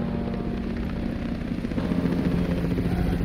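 A helicopter in the video game Call of Duty Cold War Zombies, its steady rotor chop and engine whine holding at moderate loudness throughout with no talking.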